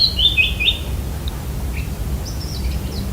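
A Eurasian blackcap sings in Italy, a few quick bright warbling phrases up front, then quieter scattered notes over a steady low background rumble.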